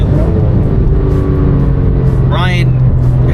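A car taken flat out around a corner on Yokohama tires on a driving road, a loud, sustained engine note heard from inside, with someone speaking over the roar near the end.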